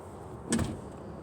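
A single solid thump of a BMW car door swinging shut, close by, with a brief rattle after it, then quiet; the door fails to latch and its soft-close mechanism pulls it in.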